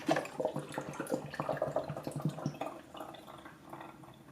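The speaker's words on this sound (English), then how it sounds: "And you'll hear the water draining." Water drains from a Keurig K15 coffee maker, trickling and dripping in a quick, irregular patter that gradually softens, faint and close.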